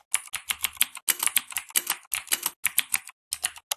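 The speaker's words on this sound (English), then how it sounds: "Now just type and it'll sound like gaming keyboards." A gaming keyboard sound effect: rapid clacky typing in quick bursts with short pauses, crisp and close, each keystroke sharp and bright.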